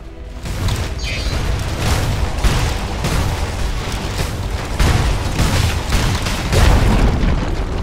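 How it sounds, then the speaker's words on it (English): A tower collapsing in a Dota 2 match: continuous loud crashing and rumbling booms with repeated heavy impacts and debris across several seconds, no voices. "Dire's top tower has fallen."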